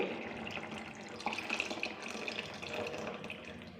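Tamarind juice is poured into a simmering mixed-vegetable curry, a faint steady trickle and splash of liquid lasting a few seconds, quiet and close with no talking.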